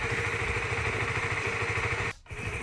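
A Honda Supra GTR 150 motorcycle engine idles with a rapid, steady mechanical knocking from a faulty tensioner, close and continuous, briefly dipping near the end.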